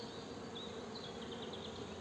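Honeybees buzz at an opened hive, a trap hive with no bottom, during a March spring inspection; a soft, continuous drone with a few individual bees whining past, fairly faint, no voices.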